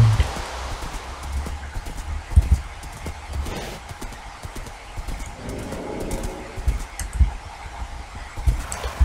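Steady clip-clop of horse hooves at a trotting rhythm in a Minecraft video game, close and fairly loud, with birdlike cooing and rustling in the background.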